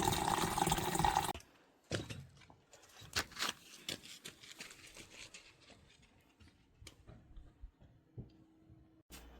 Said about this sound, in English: we're going to fill up some bottles